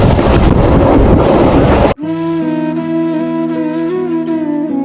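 A train on the Rajshahi to Nachole line roars loudly with rushing rail noise before cutting sharply to a steady engine hum with sustained tonal drone.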